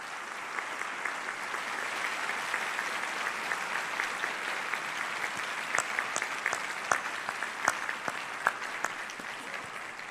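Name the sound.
applause for the graduates' friends and family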